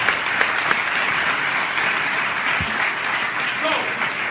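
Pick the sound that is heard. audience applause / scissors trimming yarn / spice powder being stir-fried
audience applause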